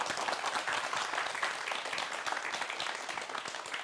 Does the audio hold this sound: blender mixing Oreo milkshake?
no